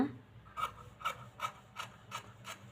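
Scissors cutting fabric for a baby frock, six evenly spaced crisp snips in a row, close and quiet, with a faint rasp of blades on cloth.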